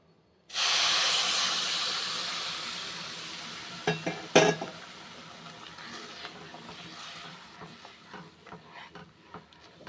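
Filtered sugar syrup poured into a ghee-roasted semolina mixture for Chettinad Rangoon puttu, bursting into a loud sudden hiss that slowly fades, with a few metal clinks and stirring scrapes as it settles.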